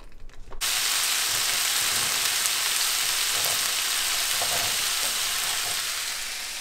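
Food fries in duck fat in a home kitchen, a loud, even sizzle that starts abruptly after a brief quiet moment and holds steady throughout, slightly easing toward the end, with no talking.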